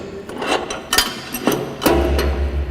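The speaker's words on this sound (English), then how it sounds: "hold it together, and then clamp the wing nut" Metallic clanks and a ratcheting clatter as a wing nut is clamped on an adjustable drum rotator, close and fairly loud, a few sharp knocks followed by a low mechanical hum.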